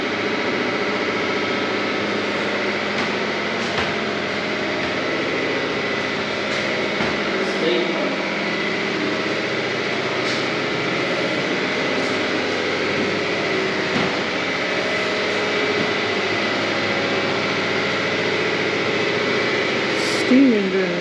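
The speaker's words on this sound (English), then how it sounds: "That's a big pump." A big pump runs in the boiler house of an old whaling station in Albany, Western Australia, a steady mechanical drone with a constant hum that holds level for the whole stretch.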